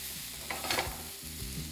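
Pumpkin pieces fry in a pan for a Bengali kumro bhorta, a soft steady sizzle with a couple of light stirring scrapes and a low hum beneath.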